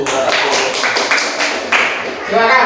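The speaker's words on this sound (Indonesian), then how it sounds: "Tepuk tangan dulu." Children in a classroom clap their hands together as a group, a dense burst of near, moderately loud clapping with voices mixed in.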